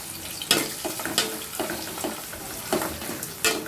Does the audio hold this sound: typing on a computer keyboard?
no